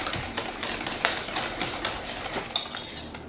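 Mashed banana and a wet mixture stirred in a bowl, a steady rhythmic scraping and clinking of utensil against the bowl, several strokes per second, close and continuous.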